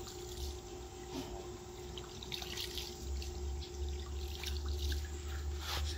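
Water poured from a cup into a lemang bamboo tube for Hari Raya cooking, a soft steady trickle with faint splashes, quiet against low background noise.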